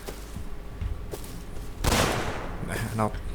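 An explosive charge blows up a wall in the survival game Rust, a sudden loud, broad blast midway through, amid scattered gunfire-like pops and a voice talking.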